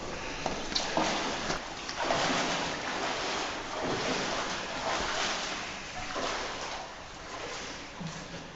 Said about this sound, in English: Doc splashing through the water.